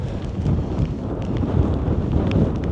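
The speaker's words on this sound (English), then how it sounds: "It's really windy as well." Strong gusting wind on an open hiking trail in the Yorkshire Dales buffets the microphone in a steady low roar, with occasional faint rustles on top.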